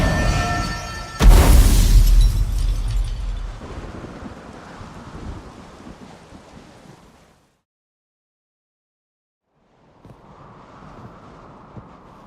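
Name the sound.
thunderstorm in the video game The Witcher 3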